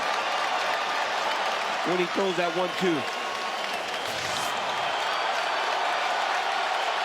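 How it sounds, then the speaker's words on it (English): Crowd at a UFC fight between Volkanovski and Ortega roars and applauds steadily through a fast back-and-forth exchange, a dense wash of cheering under a commentator's voice. "Crowd enjoying the back and forth nature of it"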